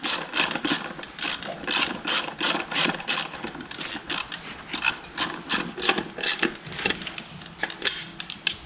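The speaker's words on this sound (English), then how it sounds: "So I'll do just a 12 mil socket just to tighten all those ones up." A ratchet fitted with a 12 mm socket clicks rapidly and rhythmically while tightening nuts during axle work on a 1983 Honda Big Red three-wheeler, with dense, continuous ratcheting close by.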